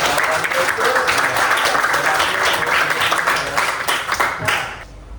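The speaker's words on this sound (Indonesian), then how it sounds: "Kita beri aplaus ya." Students in a classroom lesson clap together, a dense round of applause that holds steady and then fades and stops near the end.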